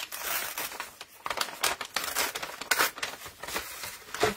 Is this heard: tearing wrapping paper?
yes